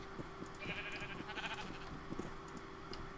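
Sheep bleating on a Minecraft wool farm in the Sevtech Ages modpack: faint, repeated wavering bleats from several animals over steady background noise, with no talking.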